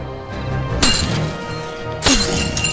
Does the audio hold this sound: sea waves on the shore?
no